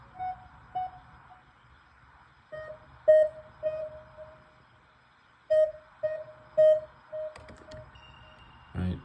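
An analog flute lead synth plays short, bright electronic beeping notes shaped like a cell phone ring, in sparse bursts separated by quiet gaps, with a low bass pulse underneath.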